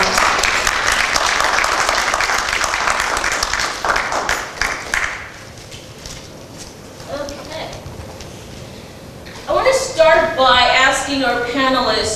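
An audience applauds to welcome panelists at a panel event, a dense burst of clapping that fades out midway, followed by a voice speaking near the end.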